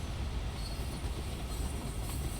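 Train rolling along the track in Train Sim World 2 on the Cane Creek line, a steady, fairly loud rumble of wheels and car noise with no clear breaks.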